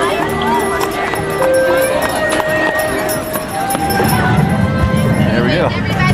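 Hooves of a horse pulling a carriage at Disneyland clip-clop in a steady, fairly close rhythm, mixed with people talking nearby and the busy murmur of a theme-park crowd.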